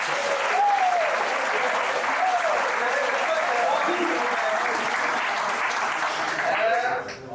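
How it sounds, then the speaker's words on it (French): Sustained, loud applause from an audience welcoming students newly arrived at a school, steady and dense throughout with brief murmurs, tapering slightly near the end. "Je voudrais un peu les applaudir."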